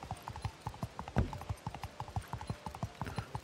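Horse hooves clip-clop in a quick, even rhythm as a horse is ridden in the video game SpongeBob The Cosmic Shake, a brisk run of crisp, close hoof knocks with one heavier thump partway through.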